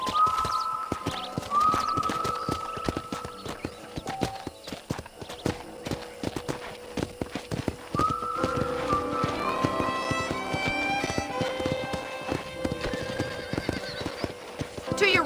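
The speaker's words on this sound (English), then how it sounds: "let's see if you can still ride a horse" A horse in the video game Red Dead Redemption gallops with rhythmic clip-clopping hooves, letting out two sharp whinnies and a longer neigh, with voices talking throughout.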